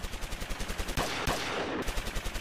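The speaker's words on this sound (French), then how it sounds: "des coups de feu éclatent, des mitrailleuses crépitent" Gunfire and machine guns in wartime combat: rapid rhythmic bursts of automatic fire crackle continuously, punctuated by a couple of sharper, louder single shots, dense and close with no talking.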